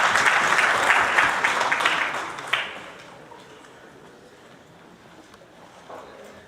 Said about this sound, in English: So I think a huge round of applause.